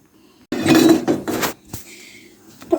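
A metal spoon clinks and scrapes against a cooking pan while desi ghee is added for carrot halwa. Close, clear knocks and a scrape come after a quiet start, with no talking.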